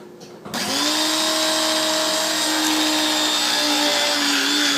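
An electric grinder whirs loudly and steadily as it grinds sugar into powdered sugar, starting abruptly after a brief quiet moment and running on without a break.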